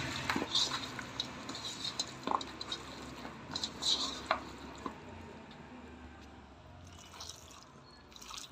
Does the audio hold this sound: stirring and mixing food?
yes